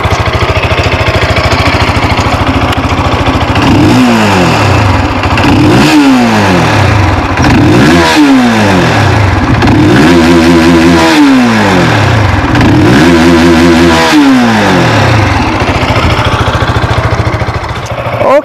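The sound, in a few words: SYM VFE 185i supermoped engine revving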